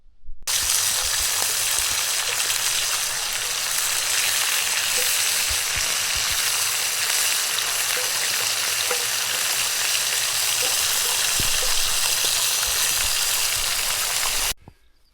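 Breakfast fries on a camping stove outdoors, with a dense, loud, continuous sizzle and crackle that holds steady for the whole stretch and then cuts off abruptly.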